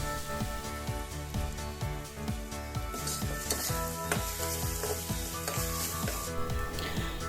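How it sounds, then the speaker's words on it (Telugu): Ginger garlic paste, two tablespoons, frying in oil for a homemade mutton keema curry, with steady close sizzling and repeated stirring scrapes of a spoon against the pan, alongside a constant hum and no talk. "2 tablespoons of ginger garlic paste వేసి వేయించుకోవాలి."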